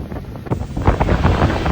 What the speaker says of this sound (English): it's really windy now and the rain is absolutely chucking it down